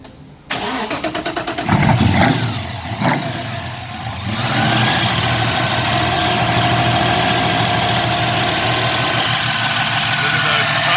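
A 1966 Ford Mustang Shelby GT350 replica engine cranks and starts with a burst, revs briefly, then settles into a loud, steady rumbling idle close by.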